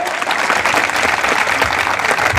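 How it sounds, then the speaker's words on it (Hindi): Dense, loud applause from a crowd of apprentices honouring office-bearers at a welcome ceremony, a continuous roar of clapping close by. "सभी सम्मानित पदाधिकारी को तालियों के साथ सम्मान देने की कृपा करें।"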